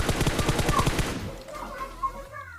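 Rapid automatic gunfire in the PUBG video game during a duo ranked match at Georgopol, a fast burst of about fifteen loud evenly spaced shots, then fading echoes and faint game sounds.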